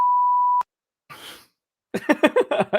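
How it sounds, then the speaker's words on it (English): A single steady censor beep tone lasts about half a second and cuts off sharply. A short breathy noise and then a burst of fast muffled speech follow. "So you can just beep your swear."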